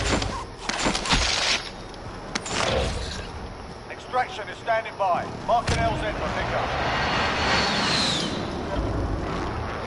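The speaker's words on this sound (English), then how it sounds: "There's a helo flying around outside." Helicopter rotor noise in a military shooter video game, a broad rumbling wash that persists through the clip among sharp gunfire-like bursts and game effects.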